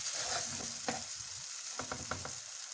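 Spices being stirred into mushroom gravy sizzling in a pan, a steady quiet fry with a few short scraping stirs of the spoon.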